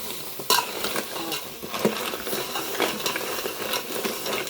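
River crab masala is stirred and sautéed in a pan over a wood-fired stove, producing a continuous sizzle with intermittent scraping and clinking of the spatula against the pan, with no talk.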